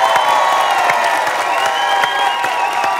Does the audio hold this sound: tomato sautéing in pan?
no